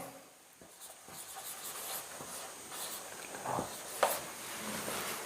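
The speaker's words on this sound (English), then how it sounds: "Okay, I am writing lay by." Pen scratching across paper while writing out a vocabulary word, faint soft strokes under quiet room noise, no talking.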